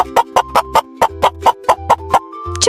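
A chicken clucks in a quick, even series of about a dozen loud, close calls, each a short burst, with no talk over it.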